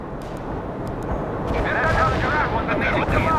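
Heavy artillery strike in the World in Conflict video game, a dense rumbling barrage of booms and crackling blasts building loud, with radio voices talking over it.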